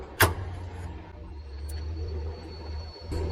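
A fuel pump runs on an ICP Savannah S light aircraft under construction, giving a faint steady hum with a thin high whine, broken by a sharp click at the start and a brief noise near the end.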